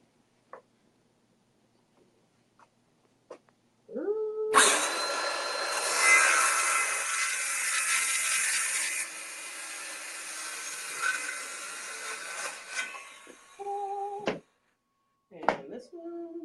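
A power tool saws through a 1x4 wood board for a rustic centerpiece box, a loud, steady cutting roar lasting about ten seconds, with brief speech before and after.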